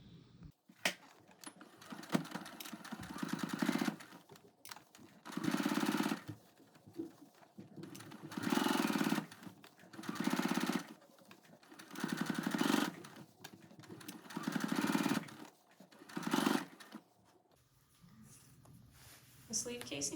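A sewing machine topstitches a windbreaker jacket in repeated bursts of rapid whirring stitches, each lasting a second or two and separated by pauses, while a person talks through the gaps.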